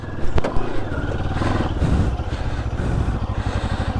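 Moto Morini X-Cape 650cc adventure motorcycle engine running close by, a throbbing, uneven idle with brief revs and a pulsing low rumble.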